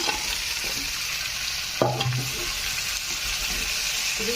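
Pieces of fried chicken go into a pan with tomatoes for chili chicken, setting off a constant loud sizzle with a burst of stirring and scraping partway through.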